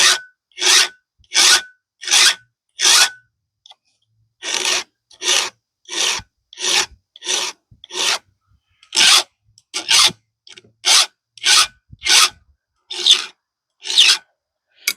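A heavily damaged chainsaw chain is sharpened by hand with a file, heard as a steady series of crisp rasping strokes, each about half a second long with brief pauses between, close up and without talking.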